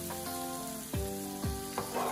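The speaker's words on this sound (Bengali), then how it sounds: "চিড়েটা দেওয়ার পর এবার সবকিছু খুব ভালো করে মিশিয়ে নিচ্ছি" Flattened rice (chira) pulao is stirred in a pan over low flame, with a soft frying sizzle under several distinct scraping strokes of a spatula spaced about half a second apart.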